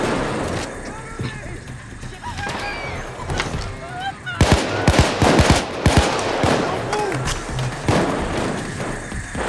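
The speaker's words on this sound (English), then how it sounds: "you guys go ahead and shoot everything down there" Gunfire in the Payday 2 heist video game, a burst of loud shots clustered in the middle of the clip amid busy game noise, with players talking over it.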